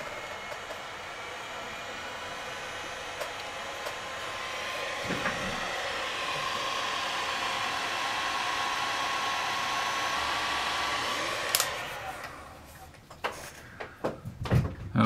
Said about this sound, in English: Let's take the heat gun here.